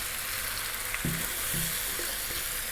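Cooked rigatoni tossed into a pan with avocado sauce gives a steady, fairly soft sizzle of frying, with a few louder stirring clunks and scrapes spaced through it.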